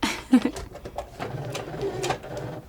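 A sewing machine runs stitches through fabric as it nears a corner, a soft mechanical whir and ticking beneath someone talking, steady and close over a few seconds.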